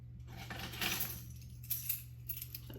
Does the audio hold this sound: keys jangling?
yes